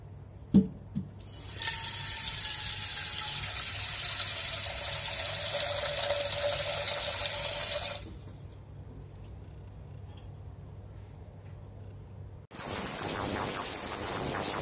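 Tap water runs into a sink over quail eggs being rinsed, a steady splashing stream that stops, then a louder, harsher rush of water starts near the end, close by with no talk.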